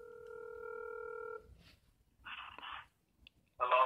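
Telephone dialing tones placing a call back to a radio show caller: a steady multi-tone dial tone followed by short bursts of keypad tones, clear and close with no talking.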